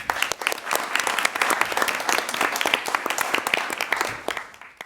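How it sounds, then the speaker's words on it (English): Audience applause at a primary school environmental awards ceremony, a dense, steady burst of many hands clapping that holds for about five seconds before tapering off. "Big round of applause"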